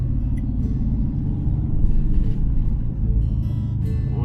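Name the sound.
motorcycle riding through Keystone town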